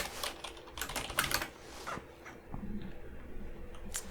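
Rapid typing on a computer keyboard while writing code, a steady run of close, crisp key clicks with brief pauses between bursts.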